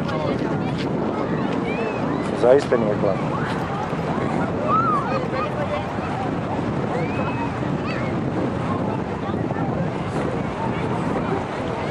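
Wind and sea waves wash steadily against a concrete pier in Cannes by a swimming area, a continuous broad rush under a person talking.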